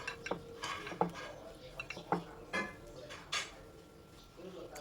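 A spoon scooping through homemade kimchi made without flour, with soft wet clinks and scrapes against a bowl in short, irregular strokes, close and fairly quiet.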